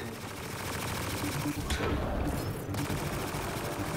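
Gunfire and a grenade blast in the sci-fi shooter Mass Effect Andromeda during an assault on a Kett base, with dense continuous shooting and a muffled boom midway under steady game noise.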